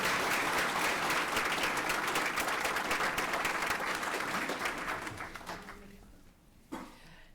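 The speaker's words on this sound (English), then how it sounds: "one more quick round of applause for all of our winners and all of our nominators." A school board meeting audience applauds award winners and their nominators with steady, full clapping that holds for several seconds, then tapers off and dies away near the end.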